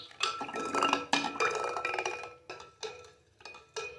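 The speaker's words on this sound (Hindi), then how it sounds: "एक बार अच्छी तरह से मिक्स कर लेंगे।" A spoon clinks and scrapes against the sides of a jug in several quick bursts, stirring a gond katira sharbat of milk and water, with short pauses between strokes.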